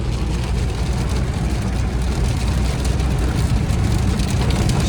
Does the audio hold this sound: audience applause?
no